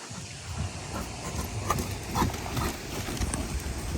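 Dressage horse's hooves clip-clopping steadily across an arena surface, a soft continuous rhythm of muffled footfalls at moderate distance with no talk over it.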